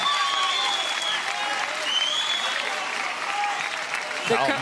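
A crowd applauds steadily after a long rally in a professional team pickleball match between St. Louis Shock and Brooklyn, the clapping loud and sustained with some cheering mixed in.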